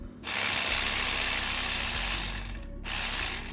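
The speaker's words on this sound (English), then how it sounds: "this one here, the starter bolt, 14mm. I've already got the ratchet, everything onto it." A ratchet works a 14mm starter bolt loose on a Toyota Aygo, making close, rapid clicking in two bursts separated by a brief pause.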